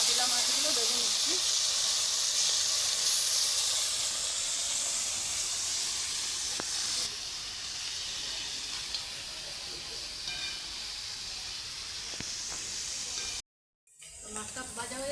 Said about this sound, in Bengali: চাপিলা মাছগুলো ভেজে নিচ্ছি।